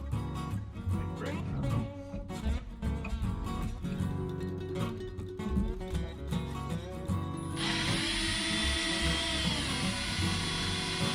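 A power drill whirs in short bursts, then runs in one continuous high whine as the bit bites into a brittle steering wheel on a 1972 GMC truck, fairly close.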